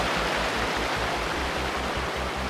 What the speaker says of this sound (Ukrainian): Дійшли ми до водоспадів Зембронських